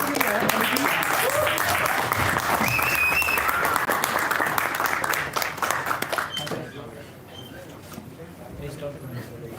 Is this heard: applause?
yes